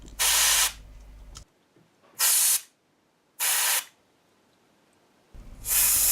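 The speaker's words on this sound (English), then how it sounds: "I'm using a can of air duster here just to blow out every switch" Four sharp bursts of compressed air from an air duster can hiss loudly while blowing out mixer switches on an Allen & Heath ZED 24, each lasting under a second, separated by quiet pauses.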